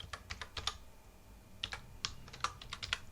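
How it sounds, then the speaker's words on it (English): Password keyed in on a computer keyboard: quick, light clusters of close key taps with a brief pause midway, quiet and alone without speech. "I'm going to type in the password."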